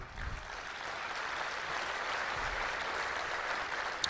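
Steady applause from a seated crowd at a Gujarati folk storytelling gathering, a dense even wash of clapping that holds for about four seconds without talk.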